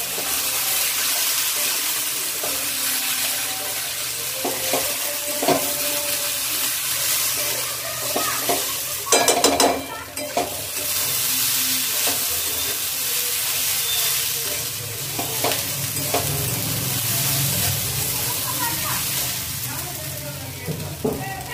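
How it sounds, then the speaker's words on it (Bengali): Broken wheat (daliya) with vegetables stirred and fried in a pan, a steady close sizzle with scraping stirs and a few brief clatters of the spoon against the pan, no talk. "সমস্ত উপকরণ দিয়ে ডালিয়াটা একটু মিশিয়ে নিতে হবে আর একটু ভাজা ভাজা করে নিতে হবে।"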